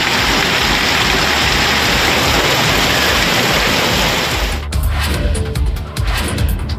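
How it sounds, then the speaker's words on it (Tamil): Heavy rain pours steadily in Tirumangalam, Madurai district, a loud, dense, continuous hiss that thins slightly near the end with a few scattered drips and splashes. "மதுரை மாவட்டம் திருமங்கலம் மற்றும் சுற்றுவட்டார பகுதியில் 1 மணி நேரத்திற்கு மேலாக மழை பெய்தது"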